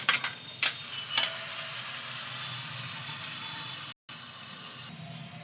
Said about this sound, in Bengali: এবার আমি এই দইটা এর মধ্যে দিয়ে দিচ্ছি